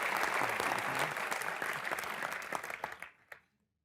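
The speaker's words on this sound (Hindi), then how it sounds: "जोरदार तालियां एक बार" Loud, dense studio audience applause on a TV comedy show, a sustained burst of clapping that fades out over the last second, with no speech.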